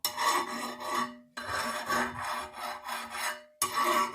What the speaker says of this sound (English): when I ran the file across the top, it made a much sharper sound